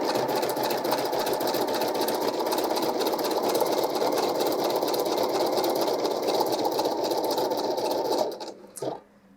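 A Pfaff Creative Icon 2 embroidery machine stitches out a design with a steady, close, continuous mechanical whir for about eight seconds, then winds down and stops.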